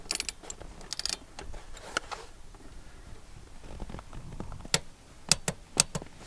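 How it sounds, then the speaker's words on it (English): A torque wrench set to 27 foot-pounds clicks a few times while fitting parts to a Lexus GX460: sharp, isolated ticks near the end, over soft mechanical handling noise and shuffling. "let's go ahead and attach our torque wrench, 27 foot-pounds. I'm going to do a couple of clicks"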